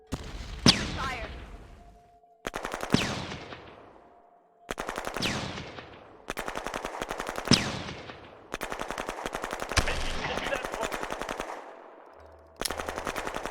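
Troops in the war strategy game Shadow Empire open fire in repeated bursts of rapid machine-gun and rifle volleys, each burst loud and close, then trailing off before the next one starts.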